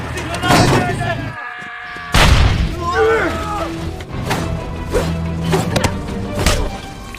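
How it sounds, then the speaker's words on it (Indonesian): Heavy booming blasts and thuds of a grenade explosion in the film The Throwaways burst out loud amid a chaotic battle soundtrack with voices. "Dan melempar sebuah granat yang mana si Olak tengah berada di dalam sana."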